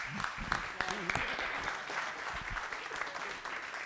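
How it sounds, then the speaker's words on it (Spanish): Audience applause for César at a book launch, moderate clapping from a modest crowd with a voice speaking over it at the start. "Un aplauso para César"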